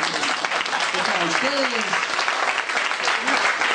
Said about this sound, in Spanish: Pero dense un aplauso.